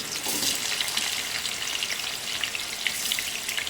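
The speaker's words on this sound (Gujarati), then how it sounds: "તો આપણે પહેલાં બટાકા એને ફ્રાય કરી લઈશું." Potato pieces frying in hot oil in a kadai, a continuous bright sizzle and crackle that holds steady at close range with no voices.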